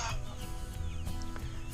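A nicely feathered hen clucks softly inside a chicken coop, with low intermittent clucks over a steady background hum, close but faint.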